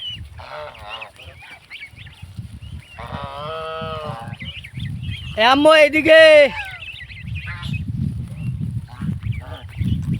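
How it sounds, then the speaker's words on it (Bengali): Domestic geese on a small farm honk in several bursts, with a louder cluster of overlapping honks midway, while a person speaks briefly nearby. "দেখুন কি সুন্দর রাজহাঁস।"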